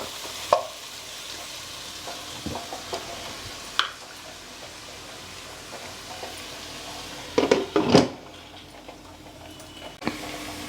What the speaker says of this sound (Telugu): ఇదిగోండి ఉల్లిపాయ చూడండి ఏగిపోయింది. ఇదిగోండి మంచిగా ఏగిపోయింది, చూసారా గోల్డెన్. బ్రౌనిష్ వచ్చింది.